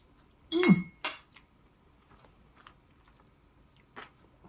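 Cutlery clinks against a plate while low-carb cake is eaten. A loud scrape and clink comes first, then a couple of short chinks and faint bites, all close and with no talking.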